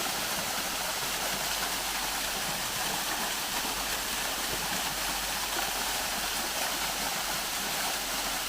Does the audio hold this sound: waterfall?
yes